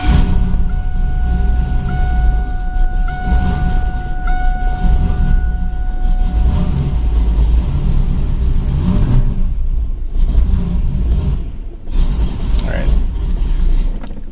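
An engine in a junkyard Chevrolet Camaro runs loudly and close, a dense low rumble throughout with a brief dip and surge near the end.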